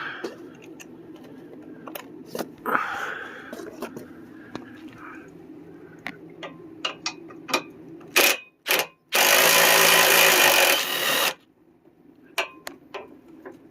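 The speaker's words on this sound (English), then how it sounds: "the rest of them you might be able to use like an impact wrench, which is what I've been doing" An impact wrench works the bumper bolts on a Honda Fit. Two short bursts come first, then a loud, sustained rattling run of about two seconds, set among scattered clicks and handling noises.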